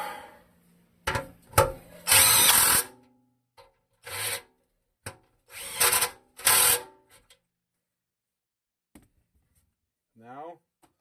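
An impact wrench works on a Wisconsin Model AB engine in several loud, short bursts of harsh rattling separated by quiet gaps, close up, with a brief sound near the end.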